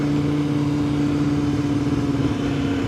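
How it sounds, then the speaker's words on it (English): A loud sport motorcycle, a Yamaha R6 or Kawasaki Ninja 650 on an airstrip, gives a steady, dense engine drone that holds evenly throughout, close and alone with no voices. "That bike is so loud."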